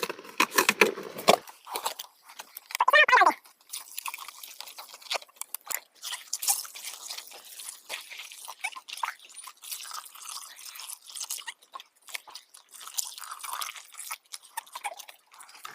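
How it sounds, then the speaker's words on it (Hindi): Cow dung is stirred into water to make jeevamrut organic fertilizer on a farm, with irregular wet sloshing, dripping and squelching sounds coming close and in uneven bursts. "अब हम गोबर को घोरते हैं।"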